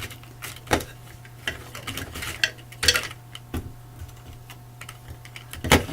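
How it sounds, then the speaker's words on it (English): Small one-word paper cards shuffled around in a bowl, giving soft, irregular rustles and light taps at close range against a quiet background. "I'm just going to mix them up in this bowl here"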